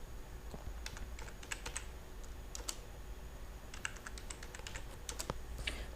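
Typing on a computer keyboard while logging into an Oracle database, with bursts of light clicking keystrokes in short clustered runs over a steady background hum, with no voices.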